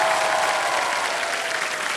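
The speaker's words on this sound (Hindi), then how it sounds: "एक बार जोरदार तालियां बज जाए इनके लिए।" A TV quiz show studio audience bursts into loud, dense applause, a continuous wash of clapping that holds steady and then eases slightly toward the end.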